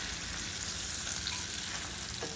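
Cod fillets frying in oil in a pan, a continuous close crackling sizzle at a fairly even level, with a faint scrape near the end as the delicate fish is turned, and no voices.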